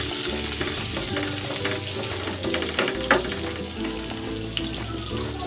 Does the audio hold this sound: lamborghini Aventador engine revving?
no